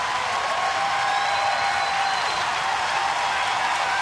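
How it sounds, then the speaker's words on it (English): A baseball stadium crowd applauds and cheers late in a night game, a broad, steady wash of distant clapping and roar filling the whole stretch without a break. "And now the crowd."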